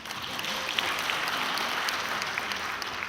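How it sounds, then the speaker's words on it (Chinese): An audience at a Los Angeles Yue opera performance event applauds to welcome the host association's president to the stage, a steady, even roar of clapping sustained throughout. "请掌声欢迎"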